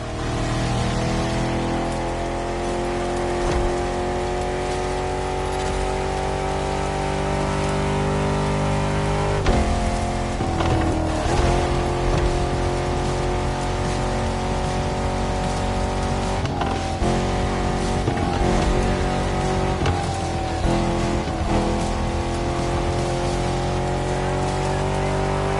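A Jeep Rubicon on 33-inch tyres driving off-road in the video game The Crew, its engine a loud, steady droning hum with rough bumps and surges partway through.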